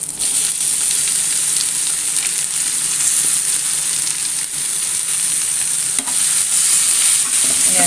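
Cooked breadfruit being stir-fried in a pan with curry leaves, a loud steady sizzle with faint stirring scrapes throughout and no speech.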